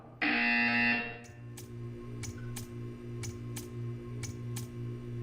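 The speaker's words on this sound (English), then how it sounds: "You will hear a buzzer. When you hear the buzzer, stare at the art." A loud, harsh buzzer in Portal 2 sounds for about a second, then a quieter hum continues under a series of regular ticks.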